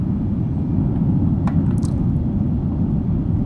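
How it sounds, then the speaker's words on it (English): A steady wash of dense, rumbling noise from an ambience loop triggered on a single note in a spectral synthesizer, with faint high ticks scattered through it. "right now I imported an ambience loop right here"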